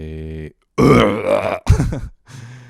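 A voice imitates a huge, long burp, drawn out in a couple of guttural bursts with short pauses, close and loud.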